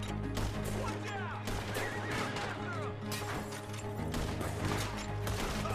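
Several loud horse whinnies rise and fall over hoofbeats and busy background clatter, with a brief voice in the mix, from the video game Red Dead Redemption 2.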